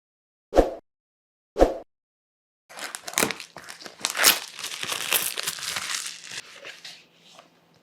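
Plastic wrapping and cardboard packaging crinkle as an electric screwdriver kit is unboxed: two sharp, isolated rustles, a short pause, then several seconds of continuous crumpling and tearing that tapers off, fairly close and with no talking.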